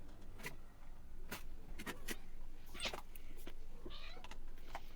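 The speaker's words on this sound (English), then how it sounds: "just got to let the cat out as well" A cat meows a few times indoors, short mid-pitched calls scattered among soft clicks and handling noises, moderately close with no talk.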